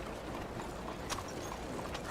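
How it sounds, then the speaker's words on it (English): Horse hooves clip-clop steadily in Red Dead Redemption 2, a continuous patter of hoofbeats under a busy, textured background. "Good horse"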